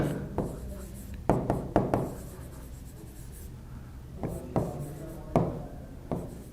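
A teacher writes on a board with chalk or a marker in a classroom lesson: short scratchy strokes and taps in two quick clusters, close and fairly quiet, with soft talk in between.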